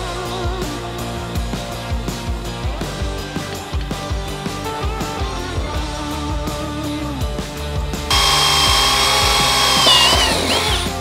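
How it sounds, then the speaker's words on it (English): Power drill boring holes for plus nuts in a Toyota Tundra Crewmax truck roof, short repeated bursts with spin-ups and pauses, close and fairly loud, ending in a sustained high whine. "We'll take this off and we'll drill and install the plus nuts the same fashion we did these back ones."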